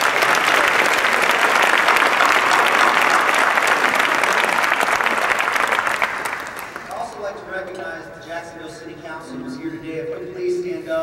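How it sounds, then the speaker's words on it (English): An audience at the Martin Luther King Jr. Breakfast in Jacksonville applauds in a dense, sustained roar of clapping for about six seconds. The applause then fades, leaving a voice speaking faintly in the room. "can you please give them another big round of applause"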